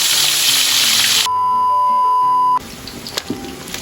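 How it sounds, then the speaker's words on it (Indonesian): Fish seasoned with lime, tamarind and salt frying in oil for Padang-style balado, a loud broadband sizzle that cuts out abruptly, followed by a steady electronic tone and then quieter clatter. "Kita goreng dulu sampai selesai ya teman-teman."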